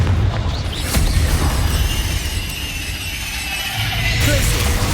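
Confringo fire spell explosion from the Hogwarts Legacy video game, a loud booming blast near the one-second mark over a constant rumbling combat din, with another swell toward the end.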